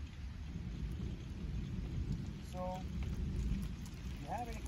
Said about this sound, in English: You can hear the thunder in the background.